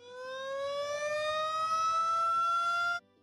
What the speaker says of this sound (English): Today, that same siren sounds off when Elliott's son, Chase Elliott, wins a race.